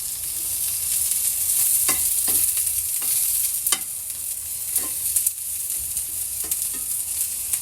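Onion sautéing in the leftover oil from frying eggplant, a loud, dense crackling sizzle punctuated by several quick scraping strokes of a spatula against the pan, no voices present.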